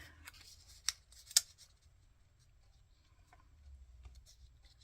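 Scissors snipping paper for a paper-and-glue craft project, with two sharp separate cuts near the start and then soft, faint rustling and handling of paper in a quiet room.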